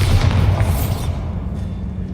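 A Bombarda blasting spell explodes in the Hogwarts Legacy video game, a heavy, booming blast with a deep low rumble that rolls out and decays over about two seconds, heard alone.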